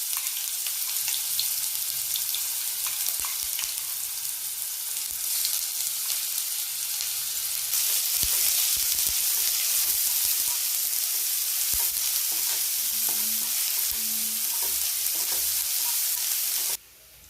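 Ginger, garlic and green chili paste frying in a pan for paneer fried rice, a steady loud sizzle throughout with occasional spoon scrapes, continuing alone until it cuts off at the end.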